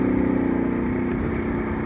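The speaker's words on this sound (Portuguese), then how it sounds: "Olha a moto saindo de traseira" Motorcycle riding on loose sand with its rear wheel sliding out, a steady close engine drone with rough, fluttering low rumble throughout, no talk.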